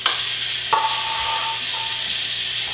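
Shrimp sizzles steadily in a frying pan on medium-low heat, with a single metallic clink of a utensil near the start.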